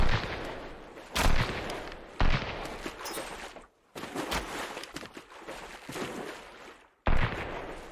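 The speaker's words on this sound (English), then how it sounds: "That's an actual gun." Gunfire in the survival game Sunkenland: several sharp, loud shots at irregular intervals, each with a decaying tail over a noisy outdoor ambience.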